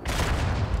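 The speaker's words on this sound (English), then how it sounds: "nice mortar shot, killing many people there" A mortar shell exploding in the World War I shooter Verdun, a single dense burst of rumbling gunfire-like noise lasting under a second.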